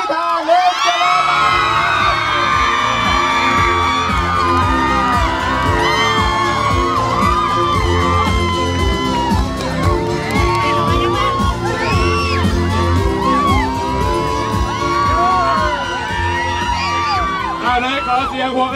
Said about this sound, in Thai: ขอเสียงปรบมือต้อนรับดังๆ